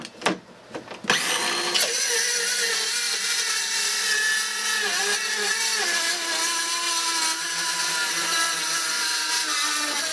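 A power saw blade cuts through clamped wood in a garage shop, a loud continuous whine starting after a couple of sharp knocks and holding steady with slight pitch dips as the blade works through the board.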